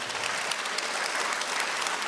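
A church congregation gathered for a cathedral's twentieth anniversary breaks into loud, dense applause that holds at an even level from start to finish.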